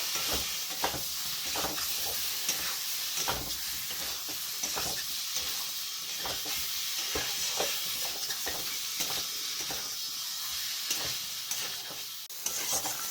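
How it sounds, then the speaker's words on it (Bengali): Fried potatoes are sautéed with masala in oil for a rui fish curry, a steady close sizzle and hiss punctuated by rhythmic spatula scrapes and taps throughout, without speech. "আলুটা দিয়েও আমি একটু সময় কষাই নেবো ভালো করে"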